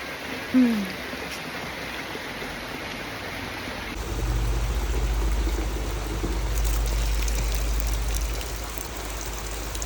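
Water fills a container while curry leaves wait to be washed, a steady rushing splash that starts abruptly partway through and continues evenly, close, with no talking.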